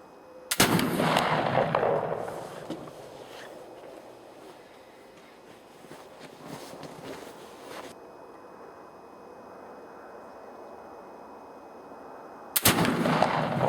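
Two loud, sharp reports from a Traditions Kentucky flintlock muzzleloading rifle, one near the start and one near the end, each with a booming echo trailing off outdoors, separated by a long stretch of quiet ambient noise.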